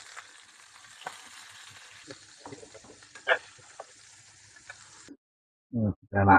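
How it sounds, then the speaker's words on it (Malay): Pork belly tossed with soy seasoning and sugar fries steadily in a pan, a close, even sizzle with small crackles for about five seconds, then stops; brief voices follow after a short silence. "Nah, goreng dulu."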